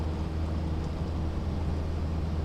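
A steady, droning plane engine rumble, a dense low hum with a constant level and no breaks, heard alone.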